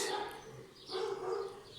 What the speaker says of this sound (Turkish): Sokak köpekleri havlıyorlar.